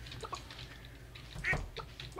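Duck quacking inside a chicken coop in the farming game Stardew Valley, a couple of short, faint quacks over a low background hum.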